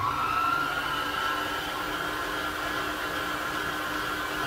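An electric mixer beating pistachio cake batter gives a steady, loud, whirring motor drone with a faint tonal whine, unchanging throughout and with no talking.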